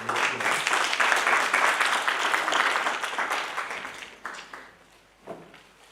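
Audience applause at a district road safety debate competition for a school speaker, a dense roomful of clapping that slowly fades and dies away over six seconds.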